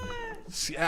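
A cat meows outdoors at night, one short rising-and-falling cry near the end, faint and close, with people talking over it.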